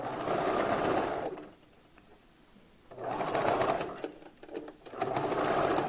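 A sewing machine stitches a 5x5 raw Indian hair closure onto a bob wig in short bursts: a buzzing run, a pause, then two more runs with brief stops in between.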